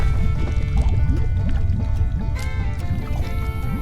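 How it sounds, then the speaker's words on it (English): Water bubbles and gurgles steadily in the Fallout: New Vegas wasteland, a close, continuous burbling with small popping bursts over a low hum of game ambience, and no one speaking. "On the road, Matt heard some bubbling."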